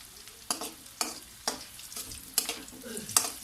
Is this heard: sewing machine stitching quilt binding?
no